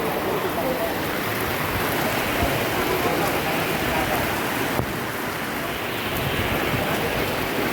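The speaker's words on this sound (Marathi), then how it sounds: "आणि पाऊस खूप जास्त आलाय" Heavy monsoon rain pours steadily on the Kalsubai trek, a dense, loud broadband hiss with no letup, close around the listener for the whole stretch.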